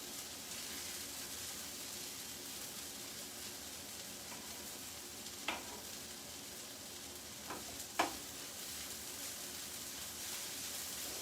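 Onions and peppers fry in a pan with a steady, even sizzle, and a few soft clinks of stirring rise above it now and then.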